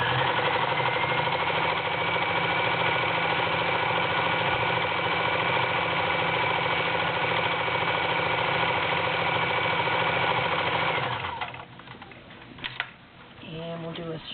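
A vintage Kenmore convertible free-arm sewing machine runs steadily through a multi-point zigzag stitch, a loud continuous mechanical whir with rhythmic needle chatter that stops near the end, leaving brief clicks and handling noises.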